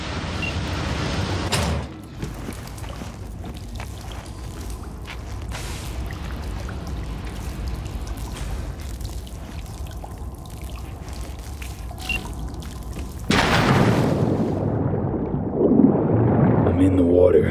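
Wading through water in flooded tunnels in Cyberpunk 2077, heard as steady sloshing and trickling under game ambience, with a louder surge of splashing water near the end.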